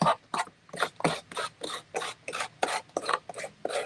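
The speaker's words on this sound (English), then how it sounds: "you're sanding on top of that texture" Steady rhythmic rasping of sandpaper strokes on a textured papier-mâché surface, about a dozen back-and-forth passes, close and fairly loud, with no talking.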